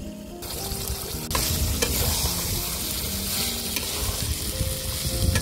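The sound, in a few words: chicken meat and fried potatoes added and sautéed in pan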